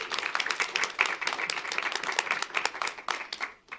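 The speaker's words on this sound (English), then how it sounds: "Let's get a big round of applause for all of them." Sustained audience applause for a conference panel, dense steady clapping from a crowd lasting the whole stretch and tapering slightly at the end.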